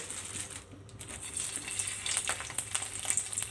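Rat meat curry being stir-fried in oil in a pan, a close hissing sizzle with bright crackles and light scraping as it is tossed, building slightly louder, no talking.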